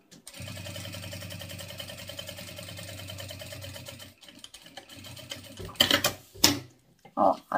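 Domestic sewing machine stitching over plastic, a steady close motor whir with a rapid needle rhythm for about four seconds, then stopping, followed by handling clatter and rustling.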